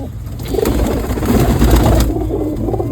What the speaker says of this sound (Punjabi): ਕਬੂਤਰ ਆਪਣੀ ਮਸਤੀ ਆ ਅੰਦਰ ਗੁੜਕਦੇ ਆ